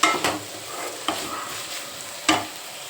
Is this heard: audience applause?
no